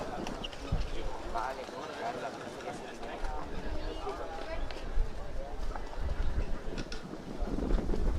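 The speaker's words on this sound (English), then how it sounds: "Although it is very windy" Steady wind buffets the microphone in a continuous rough rumble while someone commentates a mixed doubles match in Rota over it throughout.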